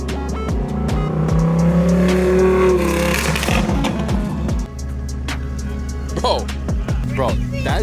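A tuned Lamborghini Huracán roars loud and close, its revving exhaust rising then falling away, with sharp pops and crackles on the overrun and people talking over it.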